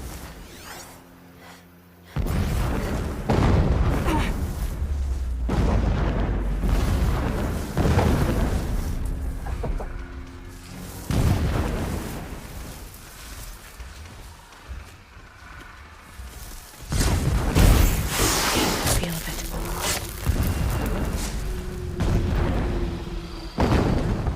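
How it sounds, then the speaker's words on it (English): Deep booming explosions in the video game Horizon Zero Dawn go off repeatedly at irregular intervals, with rumbling tails and whooshes over a continuous game soundscape and no talking. "explosions in the distance. Pay that no mind."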